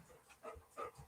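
A dog pants close to the microphone in a few short rhythmic bursts during a home livestream, fairly faint, with no talking over it.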